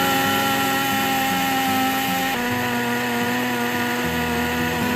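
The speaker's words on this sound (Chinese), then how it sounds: "放入搅拌机里搅拌" An electric blender runs continuously, whirring loud and close as it grinds 200 grams of soaked rice with 120 millilitres of water into a smooth batter, with a steady motor hum and a slight pitch shift partway through.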